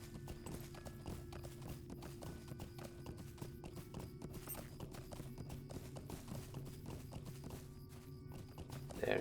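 Horse hooves clip-clop steadily on the ground while riding in the Lord of the Rings Online game, a continuous rapid rhythm of close, fairly quiet hoofbeats with a soft ambient bed underneath.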